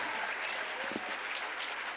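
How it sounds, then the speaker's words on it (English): Audience at a school or college session-opening event applauds a speaker, a faint, distant, even patter of many hands lasting a couple of seconds, with some indistinct background murmur. "Can we have a huge round of applause for Sir?"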